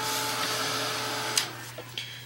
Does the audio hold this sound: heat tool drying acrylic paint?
yes